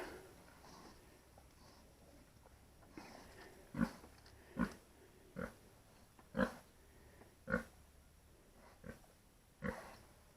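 A boar grunts in short, separate bursts, about eight over several seconds, near a sow being checked for heat, against a quiet, faint background.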